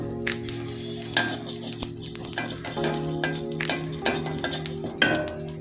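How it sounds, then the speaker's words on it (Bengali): A spoonful of cumin seeds crackles and sizzles in a hot pan while being stirred, with scraping and occasional metallic clinks close by. "এর জন্য জিরাটা আমি ভেজে নেব"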